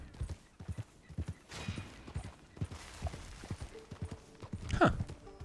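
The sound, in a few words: horse hooves clip-clopping during a ride in Red Dead Online video game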